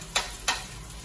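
Onion and garlic sautéing in oil for chicken caldereta make a close, steady sizzle punctuated by two quick stirring scrapes.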